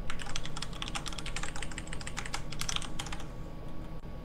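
Rapid typing on a computer keyboard, a steady run of light clicking keystrokes close to the microphone, with no talking over it.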